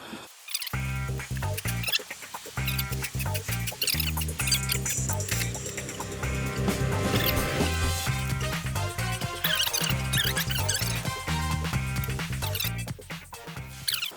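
A small power saw cuts a middle strip out of plastic for a motorcycle brake part, its motor whining steadily and rising and dipping in pitch as the blade bites, running almost continuously.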